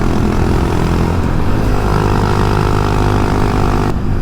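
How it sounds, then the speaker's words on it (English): A 2022 Honda Monkey fitted with a Termignoni exhaust, a single-cylinder machine, revving loud and close with a dense, buzzy engine note held steady, then easing off slightly near the end. "It sounds like a single cylinder pit bike, really."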